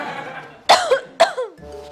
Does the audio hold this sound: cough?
yes